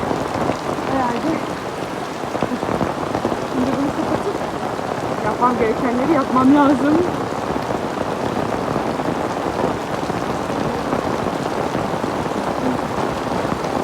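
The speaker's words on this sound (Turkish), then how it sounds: "Öyle bir yağmur var ki" Heavy rain pours steadily and loudly, a dense hiss of drops on surfaces, while someone talks briefly over it.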